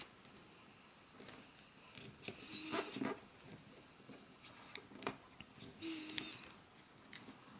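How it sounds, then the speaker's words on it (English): Paper being folded for an origami Skyhawk plane: soft crinkles and sharp creasing rustles come in irregular bursts, close and fairly quiet. "then fold it to the center again"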